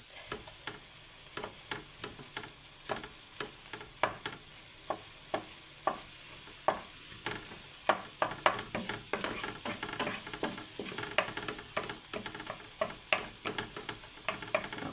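Tomatoes sizzle in a pan for creamy salted milkfish, a steady frying hiss broken by regular clicking stirs of a utensil against the pan, close and moderately loud.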